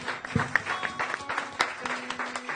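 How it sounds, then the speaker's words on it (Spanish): A church congregation claps in a busy, continuous wash of many hands, moderately loud, with scattered sharper claps and faint voices mixed in. "Dele fuerte el aplauso al Señor"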